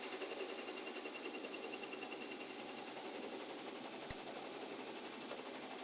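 A machine stitches a design onto a beanie or hoodie with a continuous, even mechanical chatter throughout. The sound is faint and steady, with one small click partway through and no speech.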